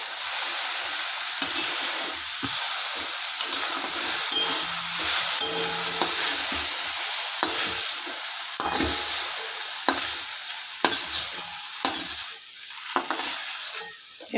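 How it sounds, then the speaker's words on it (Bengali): Okra shallow frying in hot oil over high heat, a steady loud sizzle throughout with stirring and scraping noises breaking in at irregular moments. "এই সময় আঁচটা একটু বেশি রাখবেন যাতে এটা শ্যালো ফ্রাইটা চট করে হয়ে যায়।"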